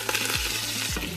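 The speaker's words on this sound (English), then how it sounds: "Can you hear it sizzling?" Hot sesame seed oil crackling and sizzling in a cooking pot, a close steady hiss broken by a couple of short stirring scrapes.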